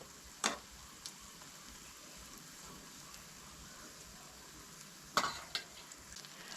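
Vegetables stir-fried with chili in a pan for a Goan vegetarian meal: a steady, faint sizzle with a few sharp scraping stirs near the start and again later, with no voices.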